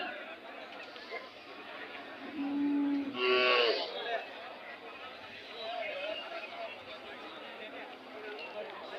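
Cattle at the Gandasi cattle market in Hassan district give one drawn-out moo midway, rising over a steady bustle of market chatter and people talking nearby.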